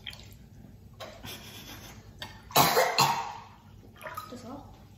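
A person coughs a few times in a short burst near the microphone, with soft water-like background noise and quiet speech around it.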